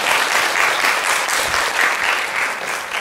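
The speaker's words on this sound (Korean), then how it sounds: "이런 아름다운 찬양 불러도 우리 아동들한테 박수 한번 주죠" Dense, steady applause from a church congregation at an Easter thanksgiving service fills the room, clapping for the children after they sang a hymn. It stays loud and even throughout with no talk over it.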